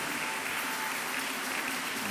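A church congregation applauding loudly after a sermon, a dense continuous clatter of many clapping hands that fills the space without pause.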